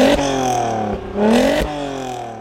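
A Volkswagen Golf 5 R32 with its V6 engine revs from inside the cabin, the tone sweeping up and down twice in quick, loud bursts before settling to a steady hum.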